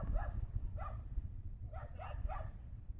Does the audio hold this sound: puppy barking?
yes